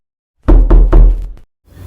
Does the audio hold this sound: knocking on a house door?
yes